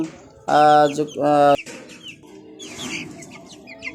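Two-month-old Colombian Brahma chickens at a farm in Rajshahi, with two loud, close bursts of clucking near the start followed by softer fowl calls and light background noise.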